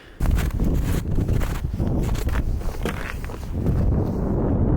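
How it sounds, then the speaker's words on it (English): Gusty wind on the Svalbard coast buffets the microphone with a heavy, low rumble that rises and falls continuously, loud and close throughout. "It was a little bit too windy here to hear what I'm saying"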